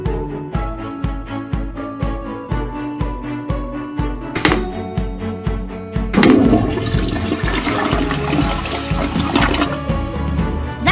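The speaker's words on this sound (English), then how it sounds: "That's my sink. That's my toilet." A cartoon bathroom toilet flushes with a loud rushing gurgle that swells midway, following a bouncy musical passage of plinking notes, with no talking over it.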